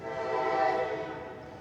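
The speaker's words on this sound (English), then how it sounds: "There's a freight train." A freight train rolls past in a Georgia railroad town, its horn sounding a steady, loud sustained blast that swells and then slowly fades as it moves on.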